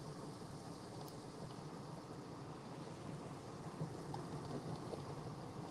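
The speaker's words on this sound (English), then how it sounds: "it's raining pretty good over here" Heavy rain pours steadily outdoors, a constant broadband roar with a low rumbling undertone, faint and unbroken, with no voices.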